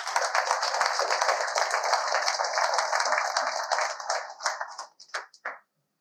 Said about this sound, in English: let's everyone give a lot of applause to Dean